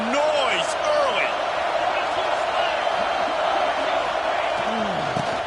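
Football stadium crowd roaring early in a game, a broad sustained wash of cheering and whoops from a large audience, steady and loud, with a commentator talking over it.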